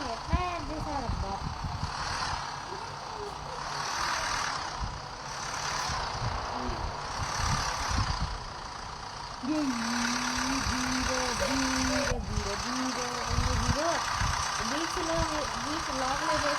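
A tractor engine in the Indian Bikes Driving 3D video game runs steadily with a low chugging idle that rises and falls in revs, loud and close throughout.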